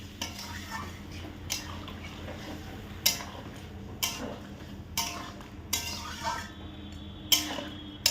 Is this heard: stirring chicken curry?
yes